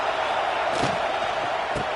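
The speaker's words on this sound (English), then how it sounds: "This crowd bringing the energy and noise early." Steady roar of a stadium crowd in the video game College Football 26 at an Ohio State versus Oregon game, a continuous wash of noise with a couple of dull thumps, under a commentator's voice.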